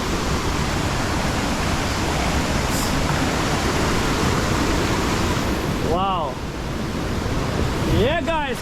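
Kiss Me Waterfall in Georgetown, St. Vincent roars as a steady, loud broadband rush of falling water throughout, with brief voice-like tones breaking through near the end.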